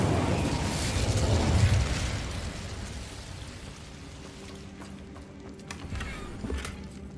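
A fire spell cast in Hogwarts Legacy, heard as a loud whooshing burst of flame that swells for a second or two and then fades into a lower crackling rumble with small pops near the end.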